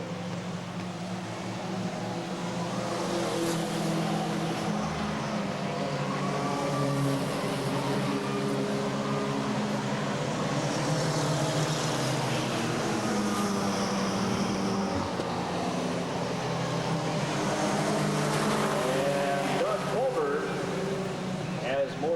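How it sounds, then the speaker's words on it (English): Mini stock race cars circle Redwood Acres Raceway in a 1989 main event, a dense roar of several engines revving and passing continuously while an announcer talks over the racing. "John Morrison as he goes down the back straightaway in third place"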